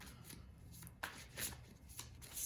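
Tarot cards shuffled by hand close up, a quiet run of soft riffling bursts and light slaps at an uneven rhythm with no talking.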